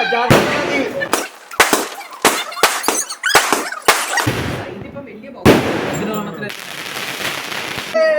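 Firecrackers bursting one after another at a New Year celebration, with sharp loud cracks and crackling bursts in irregular succession, some sustained fizzing stretches, close by.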